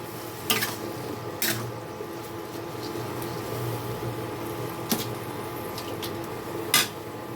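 Jaggery being stirred into radish in a pan, with a soft background sizzle and several distinct clinks and scrapes of a spoon against the pan at irregular intervals.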